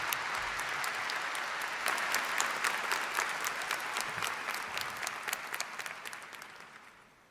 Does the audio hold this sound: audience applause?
yes